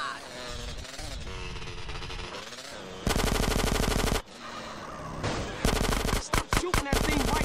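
Gunfire in the video game GTA San Andreas, sustained loud rapid automatic bursts with a brief break and choppy stutters at the end, layered over game noise and engine sounds.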